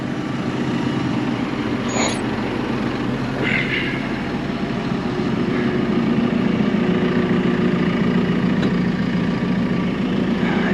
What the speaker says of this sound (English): Let's get the tractor out now.